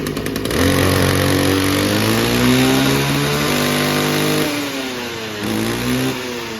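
Used Japanese Mitsubishi 27 brush cutter engine running after a pull start, a loud close two-stroke drone that revs up and holds, dips briefly near the end, then rises again.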